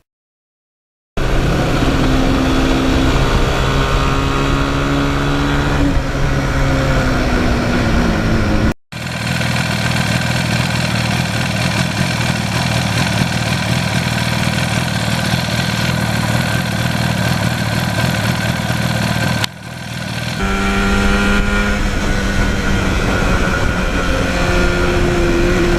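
A 1977 Yamaha RD400 two-stroke motorcycle engine runs loud and close for the whole stretch, its pitch climbing and then dropping at two brief breaks as it shifts through the gears.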